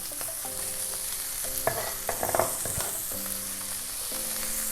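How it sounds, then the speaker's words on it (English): Bacon and a medium red onion frying together in a pan for a breakfast frittata, a close continuous sizzle broken by bursts of spatula scraping and stirring, no voices. "straight in the pan with our onions"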